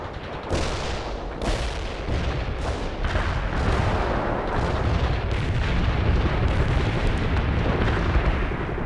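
An artillery barrage in the video game World in Conflict rumbles with repeated heavy booms and blasts over a dense, continuous roar of distant impacts.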